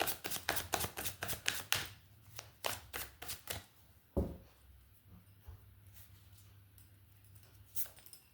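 Tarot cards are shuffled by hand in a quick run of crisp riffling slaps, followed by a louder thump and quieter scattered card sounds.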